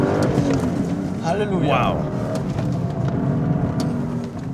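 A BMW M car driven in sports mode on a handling course, its engine droning steadily at close range as it pulls through the course, with a voice speaking over it.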